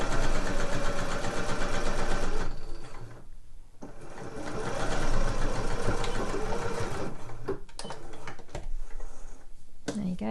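A sewing machine stitches slipper uppers, starting with a back stitch. Its fast, steady mechanical whirr runs loud and close, pauses briefly a few times and then resumes.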